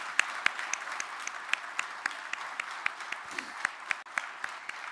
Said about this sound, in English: Let's give a round of applause for our finalists today.